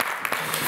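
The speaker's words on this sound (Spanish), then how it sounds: "Un aplauso grande para él, por favor." Conference audience at a hydrogen and digital energy event applauds a ministry official, a brief burst of steady, dense clapping.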